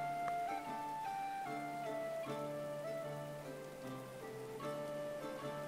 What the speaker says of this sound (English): Rain is coming down like crazy